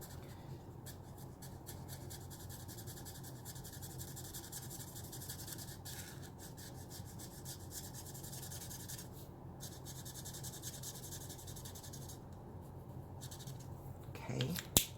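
A dual-tip alcohol marker's chisel nib rubbing across paper, a steady soft scratchy drawing sound that runs continuously at close range with a faint hiss, ending in a slightly louder scuff.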